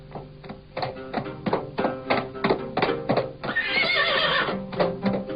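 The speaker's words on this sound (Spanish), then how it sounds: "El caballo," A horse whinnies loudly near the end, a long wavering neigh that follows a run of rhythmic hollow thuds like hooves clip-clopping at close range, with no voices.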